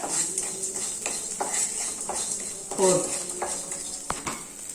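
A spoon scrapes and stirs rice mixed with puliyodarai powder in a pan with the gas turned off, giving soft repeated scrapes and occasional utensil clinks, close and fairly quiet, with no talking.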